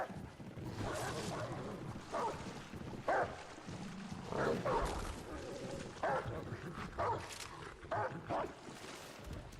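A dog barks in a video game, with repeated barks and high yips scattered among busy game sounds at moderate volume.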